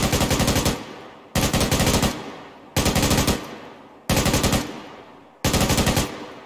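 Five evenly spaced long bursts from a crew-served machine gun in a video game, each a loud, rapid string of shots ending in a short decaying echo before the next burst.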